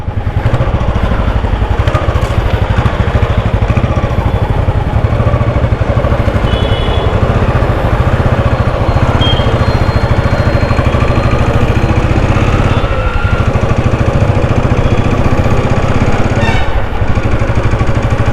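A two-wheeler's engine running steadily while riding, a loud continuous close hum and rattle with wind noise throughout, no talking.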